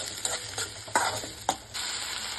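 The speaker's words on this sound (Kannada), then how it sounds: "ಟೊಮೊಟೊನ ಈರುಳ್ಳಿ ಚೆನ್ನಾಗಿ ಒಂದು 2 ಸೆಕೆಂಡ್ ಅಷ್ಟು ಫ್ರೈ ಮಾಡ್ಕೊಳ್ಳಿ" Onion and tomato frying in a pan for a bread toast recipe, a steady sizzle broken by a few sharp scraping stirs near the start and middle, close and moderately loud with no talking.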